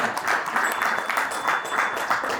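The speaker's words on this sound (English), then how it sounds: "Everybody please put your hands together. Big round of applause." Audience applause at a stock exchange listing ceremony for a food company at the National Stock Exchange of India, a steady wash of many hands clapping that fills the hall evenly without a break.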